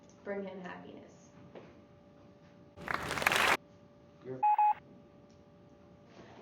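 A phone's text message alert sounds as a short, bright burst of tones, followed moments later by a clipped electronic beep, with a quiet room and faint speech before it.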